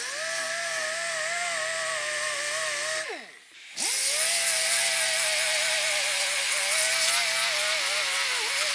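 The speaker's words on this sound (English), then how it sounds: "So I'm gonna sand this thing a little bit." A power tool whines steadily on sheet metal engine tin, spinning down briefly midway, then starting up again to a loud, even high-pitched hum with a rough, gritty edge.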